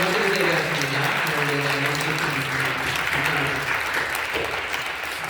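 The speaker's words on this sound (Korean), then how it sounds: "박수 주시죠." Congregation applauding in a church during a Sunday worship service, a dense steady wash of clapping that carries through the whole stretch, with sustained tonal music or singing tones underneath.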